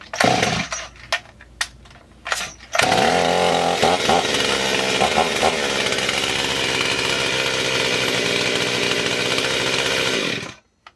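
A Huztl clone of a Stihl MS360 chainsaw is pulled several times with sharp cord rips, then fires and runs, a loud continuous buzzing idle that holds for about eight seconds before cutting off.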